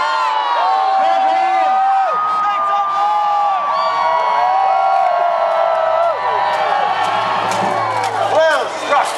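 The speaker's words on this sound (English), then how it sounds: "Cheer with all your might for your champion." Big outdoor crowd at a Renaissance Festival jousting final cheers loudly and steadily for the knights, with whoops, shouts and children's voices, and an announcer's voice carrying over the noise.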